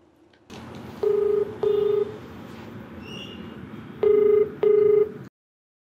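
A telephone is dialed to call a viewer: four loud, clean keypad tones sound in two pairs, with a quiet line hiss between them and then an abrupt cutoff.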